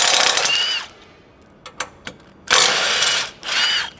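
A power tool rattles in short loud bursts with pauses and small metallic clicks between them while a tie-down point is unbolted from the chassis of a Toyota Prado 250.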